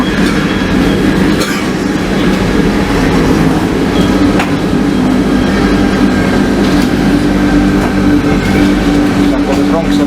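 A mountain train climbs toward Christ the Redeemer, its steady loud rumble and clatter continuous and close throughout, with a grinding metallic whine and occasional clicks, while people talk over it.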